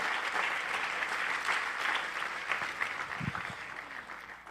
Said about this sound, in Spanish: ¿quiere darle un aplauso, Señor? Déselo.